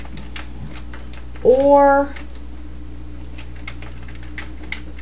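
Light, rapid clicks of typing on a computer keyboard run steadily throughout, briefly interrupted by a short spoken word.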